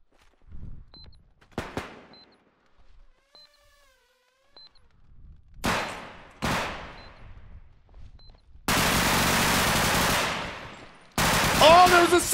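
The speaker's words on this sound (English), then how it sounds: "I should have just kept shooting" Gunfire from a bodycam-style shooter video game: scattered single shots and short bursts early on, then two long, loud sustained volleys of automatic fire near the end, with quiet gaps and faint movement between.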